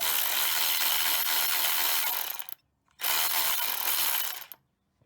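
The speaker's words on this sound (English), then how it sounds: "I love this electric ratchet wrench from Milwaukee." Milwaukee electric ratchet wrench run in two loud bursts of close whirring, with a pause between them, while it works on an oil pan gasket job on a 2004–2007 Ford Freestar with a 3.9 or 4.2 liter engine.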